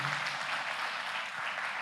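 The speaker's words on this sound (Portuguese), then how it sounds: "Dê outra salva de palmas para o Senhor, para você aquecer." A church congregation applauds together in a steady, dense wash of clapping that holds evenly for the whole stretch, moderately distant and without a break.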